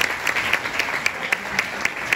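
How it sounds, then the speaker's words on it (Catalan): An audience at a board game festival in Barcelona applauds with a brief, dense burst of clapping, with a regular sharper clap standing out near the microphone. "Un aplaudiment, Josep Maria."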